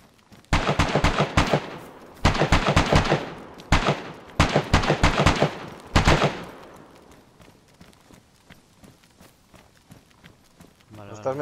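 DayZ gunfire rings out in several rapid bursts of loud, sharp shots from an AK-type rifle, separated by short pauses, before fading to quiet footsteps and faint voices.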